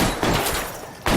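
Ithaca shotgun blasts in a video game, two loud broadband bursts roughly a second apart with a noisy tail between them.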